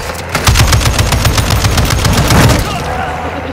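Loud, rapid automatic gunfire from a Call of Duty battle royale match, a dense continuous stream of shots lasting a couple of seconds before easing off into quieter background noise.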